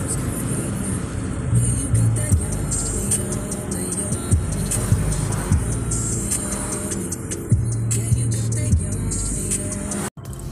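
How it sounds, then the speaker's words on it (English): Road traffic on a dark, rainy day heard from inside a moving vehicle, a steady engine and road rumble with passing cars and occasional thumps as vehicles begin moving. "Traffic and the cars or the vehicles start moving finally."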